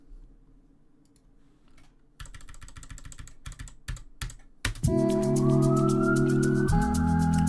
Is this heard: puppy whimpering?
no